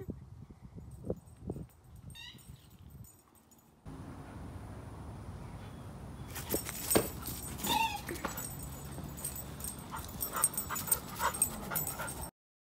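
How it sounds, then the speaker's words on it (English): A dog whimpering and yipping during play, with short high whines early and then scuffling, panting and rustling noises up close, no speech. "I decided to go play with my wonderful dog, Nip."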